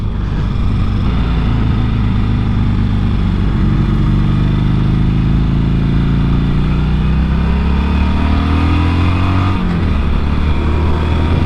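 A 2007 Harley-Davidson Sportster 1200 Custom motorcycle cruises on a highway with a loud, steady engine drone and rising pitch as it accelerates through the gears, the engine dipping briefly near the end as it shifts.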